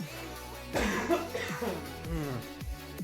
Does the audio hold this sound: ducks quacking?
no